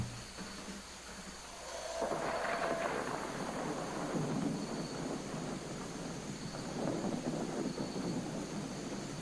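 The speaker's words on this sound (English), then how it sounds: "Let's check out the thunder element." A synthesized thunder effect in Ableton Live: low, rolling thunder rumbles on continuously with a windy, hissing wash, swelling and fading without any voices.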